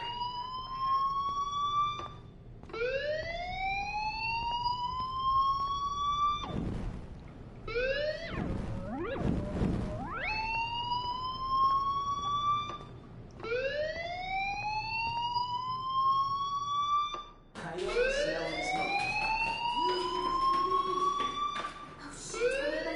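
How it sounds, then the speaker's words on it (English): A fire alarm sounds in the video game Life is Strange, with a loud, steady series of rising electronic whoops repeating every few seconds for the whole stretch, and a brief burst of noise partway through. "do you hear that fire alarm? That means you should be outside."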